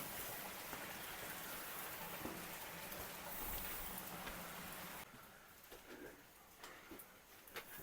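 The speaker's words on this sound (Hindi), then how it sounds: "इधर कोई वाटरफॉल चल रहा है, उस झरने की आवाज़ आ रही" A waterfall in a Nepal village area rushes as a continuous broadband hiss, dense and steady for the first five seconds and then quieter, with faint scattered sounds over it.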